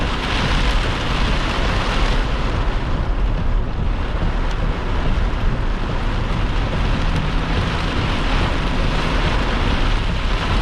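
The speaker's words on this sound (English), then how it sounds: "wind blowing rain." Heavy wind-driven rain roars continuously against a vehicle during a tornado-warned storm in Arkansas, a loud, dense wash of noise with buffeting wind.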